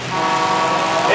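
A single loud, sustained starting horn blast at a county fair destruction derby sounds close by, steady for about a second.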